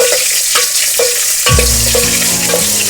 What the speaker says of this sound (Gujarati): મરચા તળીએ આપણે